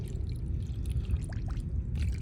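Filtered water poured from a container into a cell of a lead-acid battery being serviced, a close, steady low gurgling stream with faint trickles throughout, no talking.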